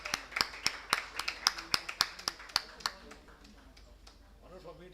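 A dozen or so sharp, distinct hand claps in fairly even rhythm at an award ceremony in a hall, then fading into quiet room murmur with faint voices.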